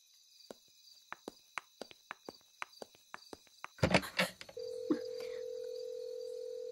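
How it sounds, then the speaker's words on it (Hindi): A landline telephone handset gives a series of sharp, evenly spaced clicks and a brief clatter, then a steady, continuous dial tone hums on alone, close and clear. "डायल टोन तो आ रहा है, हाँ?"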